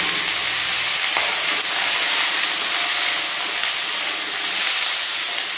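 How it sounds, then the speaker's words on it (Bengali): Potato pieces frying in hot oil in a pan with cauliflower, a constant close sizzle and hiss with faint stirring scrapes throughout. "একটু ভেজে নেব আলুগুলো।"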